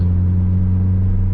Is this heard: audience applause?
no